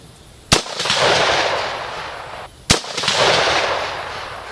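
Two loud, sharp rifle shots from a heavy rifle with a pencil-profile barrel, fired outdoors about two seconds apart, each followed by a long rolling echo that decays slowly.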